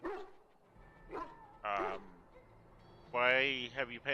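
Dogs in the fantasy video game Dragon Age: Origins bark and yelp in short bursts with a drawn-out whimpering whine, close and clear, mixed with game voices talking.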